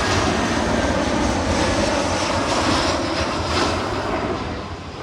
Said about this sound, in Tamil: இந்த ஃப்ளைட் வந்து இப்போ அப்படியே போய் லேண்ட் ஆகுது பாருங்க.